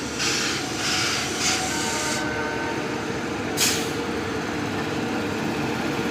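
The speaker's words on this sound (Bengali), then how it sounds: "হঠাৎ করে একটা ট্রেন চলে এলো" A train rumbles past on a Howrah rail route where passengers cross on foot, with a steady low rolling drone and intermittent hissing bursts, moderately loud and continuous.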